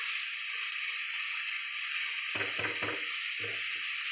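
Sliced bottle gourd fries in a pan with a steady, close hissing sizzle throughout, broken near the end by a few brief low knocks as it is stirred.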